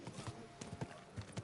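In Kingdom Come: Deliverance 2, horse hooves clip-clop in a quick uneven rhythm, several sharp knocks close by, with no talking.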